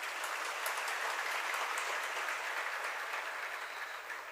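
Listeners at a Hindi religious discourse break into sustained applause, a soft, continuous wash of clapping heard from a distance that holds level for about four seconds before easing slightly at the end.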